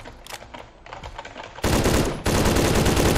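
Bursts of rapid battle rifle fire in the shooter game Phantom Forces, scattered close shots at first, then two loud sustained volleys of automatic fire that fill the end.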